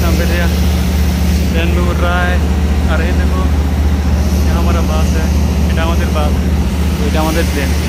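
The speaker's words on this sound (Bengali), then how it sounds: "এটা আমাদের বাস।" An airport bus idles with a loud, steady low engine rumble and hum, broken now and then by nearby voices talking over it.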